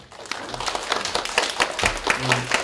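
An audience at an ecology conference applauds its panel of four, a dense, steady wash of many hands clapping that carries through the whole stretch at moderate loudness.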